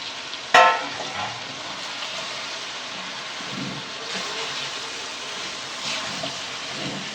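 Chicken with oil and its juices frying in a karahi, a loud steady sizzle and hiss after a sharp initial clank of the pan, roaring on without a pause.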